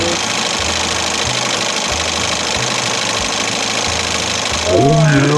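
A 1968 Evinrude Fisherman 6 hp outboard motor runs with a steady, rapid knocking putter and a rhythmic low throb, loud and close, before a voice breaks in at the end.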